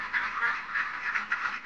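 Farmed ducks quack in a dense, close chorus of repeated nasal calls, steady with no talking over them.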